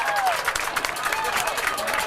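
A high school football crowd at Northview Academy vs Alcoa cheers and claps in appreciation after an interception return, a broad, distant roar of the stands under the play-by-play commentator's voice.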